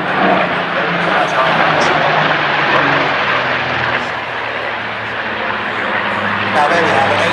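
A Seafire Mk17 piston-engined fighter flies past, its loud, steady engine roar filling the air and swelling slightly toward the end, with speech faintly underneath.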